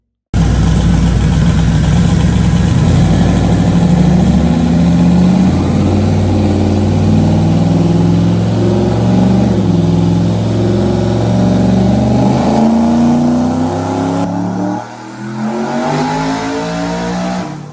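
A twin-turbo Ford Coyote V8 roars through a dyno pull at 20 psi of boost, a loud sustained wail rising steadily in pitch for about fourteen seconds before cutting off and dropping back toward idle.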